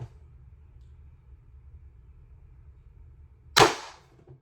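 A single sharp crack from an air gun with an 8 inch barrel firing steel core rounds, sudden and close, after a few seconds of low steady hum.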